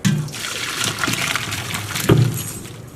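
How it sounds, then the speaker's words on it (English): Boiled potatoes being drained into a kitchen sink from a stovetop pot, water pouring and splashing continuously with a sharper thud and gush near the end, close and fairly loud. "you grab your potatoes from your stovetop and you're going to drain them right here to stop them from cooking anymore"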